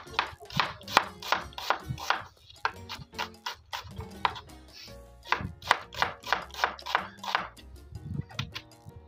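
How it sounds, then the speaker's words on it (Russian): Knife chopping onion into half rings on a board for homestyle buckwheat cooked in a kazan over an open fire in a village, sharp rhythmic cuts in quick bursts with brief pauses, close and clear. "Сначала все нарежем лук полукольцами."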